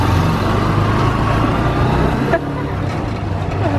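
Steady engine drone and road rumble while riding as a passenger in a motorized tricycle, with a second vehicle following close behind; continuous and fairly loud throughout, with a brief bump partway.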